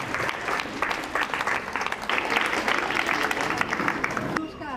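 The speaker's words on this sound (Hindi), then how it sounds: "बिल्कुल जोरदार तालियां होनी चाहिए।" Students and staff at a girls' higher secondary school ceremony in Katihar clap loudly in a dense, sustained round of applause that fades near the end, with a voice briefly heard over it.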